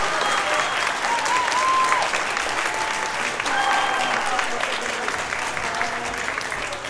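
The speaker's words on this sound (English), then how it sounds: "Give yourself a round of applause." Applause at the class of 2021 Okemos Middle School graduation, a dense, steady clapping from a large crowd with cheers and whoops rising over it, holding for several seconds.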